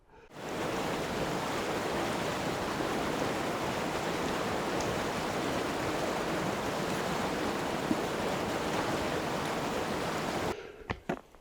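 Steady broadband rush of flowing river water at a campsite, continuous and fairly loud, cutting off abruptly near the end with a few brief knocks.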